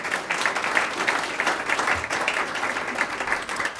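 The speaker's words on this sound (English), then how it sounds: "Round of applause for all our ESPs" A school board meeting audience gives a sustained round of applause, dense steady clapping filling the room at an even level throughout.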